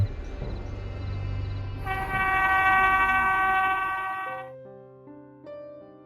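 A cartoon train in a Bengali horror story about a haunted train, rumbling steadily with a bright horn-like tone in the middle, then giving way to a few clear chime-like notes at the end.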